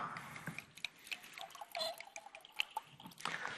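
Water poured for a drink at a lecture podium, faint irregular trickles, drips and small clinks close to the microphone, quiet with no speech.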